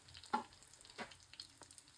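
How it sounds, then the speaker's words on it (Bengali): Chicken popcorn frying in oil, a faint soft sizzle with a few sharper crackles and stirring clicks, quiet and close. "আর একটু আমরা ভাজতেছি।"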